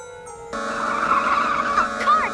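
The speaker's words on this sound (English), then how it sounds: "A car chase!" Cartoon car chase: tires screech in a sustained, wavering skid that starts abruptly after a short quiet moment and stays loud, with a sliding squeal near the end.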